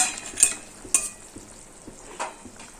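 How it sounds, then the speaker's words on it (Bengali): Fried small fish and lentil dumplings go into a simmering fish curry with potato and pointed gourd, giving a soft bubbling sizzle broken by several sharp clinks of a utensil against the pan. "ঝোল ফুটে উঠেছে। এই পর্যায়ে ভেজে রাখা মাছ আর বড়ি দিয়ে দিচ্ছি।"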